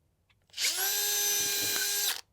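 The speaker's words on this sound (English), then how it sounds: "I've got my Amana countersink." Power drill spinning an Amana countersink bit into wood during a built-in wardrobe build, one steady high-pitched whine of about one and a half seconds that spins up and cuts off cleanly, loud and close with no talk.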